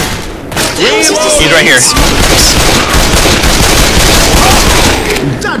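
Rapid handgun fire in a zombie shooter video game, dense repeated shots crackling loudly and continuously for several seconds, with excited talking over the start.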